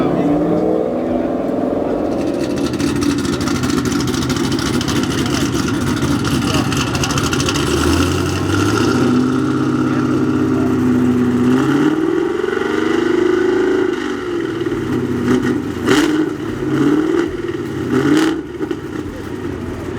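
An LS-engined car fitted with a Porsche exhaust idles and revs at an outdoor car show, its deep burble rising and falling through repeated throttle blips against a constant background wash of crowd and traffic.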